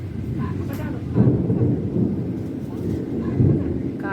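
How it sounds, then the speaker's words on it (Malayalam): Low, heavy thunder rumbles through a rainstorm, rolling continuously with a couple of stronger swells. A soft wash of rain runs underneath. "കാറ്റ് കൊണ്ടുപോവോ നല്ല ഇടിയുണ്ട്"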